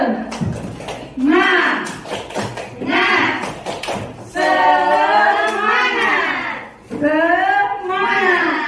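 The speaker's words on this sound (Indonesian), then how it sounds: "Ya, kita tepuk semangat dulu." Group of teachers and participants at an Indonesian school session performing the rhythmic tepuk semangat spirit clap, sharp clustered claps in patterned bursts alternating with loud shouted chanting voices.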